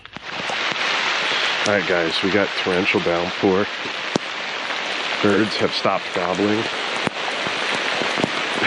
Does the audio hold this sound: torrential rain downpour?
yes